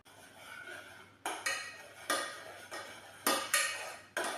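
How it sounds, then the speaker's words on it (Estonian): A spoon scrapes and knocks against a pot as melted butter is stirred off the heat to cool, a few distinct clanks spaced a second or so apart over a faint scraping background, close and fairly quiet. "Jahutame segades võid"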